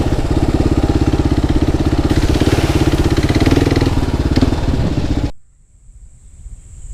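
An adventure motorcycle engine pulls away on a gravel hill, a loud, steady pulsing drone close by that holds for about five seconds before cutting off abruptly into near quiet.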